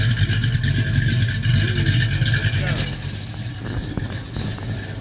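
A Plymouth Cuda hot rod with a Tube Technologies exhaust idles with a deep, rough rumble, loud and close, then eases a little toward the end.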